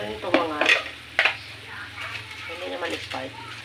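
Buttered potato marbles sizzle in a pan while being stirred, with scraping stir strokes over steady frying, and a person talking throughout.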